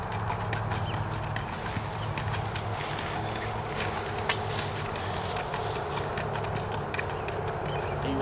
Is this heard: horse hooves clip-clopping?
yes